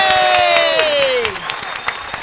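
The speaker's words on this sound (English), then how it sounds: "I want a big round of applause to the one and only Iyanla Vanzant." Clapping and cheering rise from a studio audience on a morning radio show, partly under a sliding, descending musical tone that drops away as scattered claps continue.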